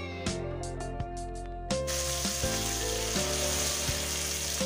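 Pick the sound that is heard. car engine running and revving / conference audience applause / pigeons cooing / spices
spices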